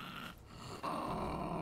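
A dog growls in the Survival Fountain of Youth video game: a short, close, rough low rumble that dips briefly and then resumes louder and steady.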